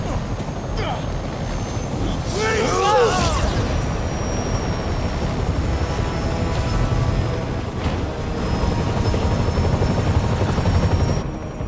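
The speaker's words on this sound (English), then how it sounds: "The helicopter, of course." A helicopter in the video game Marvel's Spider-Man gives off a constant, heavy rotor drone with a steady low thrum, and voices speak briefly over the loud noise.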